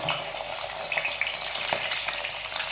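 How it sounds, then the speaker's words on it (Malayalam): Close, crackling sizzle of garlic frying in hot sesame oil, with occasional stirring scrapes and pops, steady throughout with no talking. "നമുക്ക് ആ ചട്ടിയിലേക്ക് വെളുത്തുള്ളി ഇടാം,"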